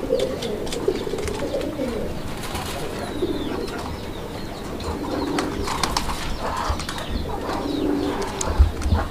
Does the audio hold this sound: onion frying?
no